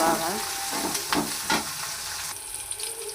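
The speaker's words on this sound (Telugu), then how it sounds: "ఇలా వేగుతున్నప్పుడే కొద్దిగా జీలకర్ర, కొంచెం ధనియాలు, కొన్ని ఆవాలు వేసుకున్నాం." Cumin, coriander and mustard seeds fry in hot oil in a pan, giving a close, busy sizzle with a few sharp stirring clinks, heard alone.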